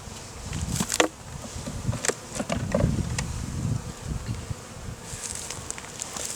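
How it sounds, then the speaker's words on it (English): A dense swarm of honey bees buzzing close by as a frame is lifted out of a hive, a steady droning hum with louder passes as individual bees fly near. "as I lift the frame out, all the bees come out and make a run for it"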